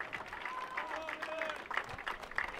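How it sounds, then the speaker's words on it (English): Fans cheer and applaud at a NASCAR Euro Series victory celebration at Autodromo Vallelunga in Italy, a steady wash of crowd clapping and shouts with a public-address voice talking over it. "getting the fans to cheer on their hero."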